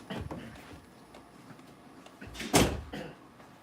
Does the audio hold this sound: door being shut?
yes